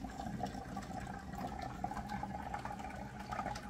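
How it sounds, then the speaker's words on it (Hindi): Water runs steadily into a vessel during a simple experiment, a continuous trickling, bubbling flow heard close and fairly quiet with no voices. "इसके अंदर स्पष्ट रूप से आप देख सकते हैं कि पानी अंदर इसमें जा रहा है"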